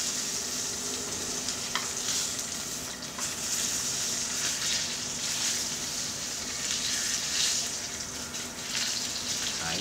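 Steak frying in a tilted pan so its fat cooks lets out a loud, continuous sizzle and crackle, close and unbroken from start to finish.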